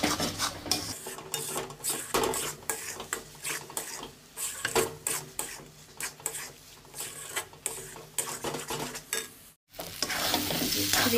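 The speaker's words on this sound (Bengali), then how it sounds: "অনবরত নাড়াচাড়া করতে হবে।" Taro flower curry being stirred in a frying pan, rhythmic scraping strokes of a spoon over steady sizzling, close and fairly loud, with a brief pause near the end.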